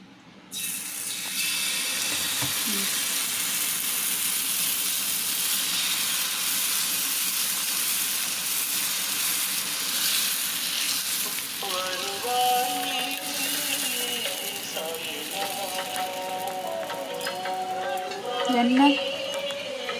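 Ragi dosa batter poured onto a hot pan sizzles with a steady, loud hiss that holds from start to finish, with faint kitchen clatter and some tonal noise toward the end.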